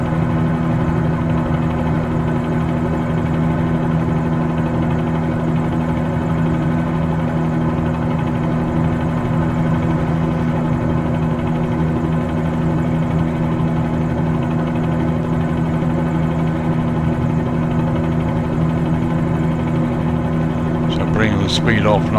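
Helicopter engine and rotor in Microsoft Flight Simulator 2020 near the Hooper Heliport, a loud, steady droning hum that persists throughout, with a brief sharper sound near the end.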